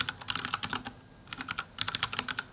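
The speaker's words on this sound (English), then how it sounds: "It's weird to narrate when you're typing" Fast typing on a computer keyboard in an old house, bursts of rapid clicky keystrokes with a brief pause in the middle, close and clear with no talking.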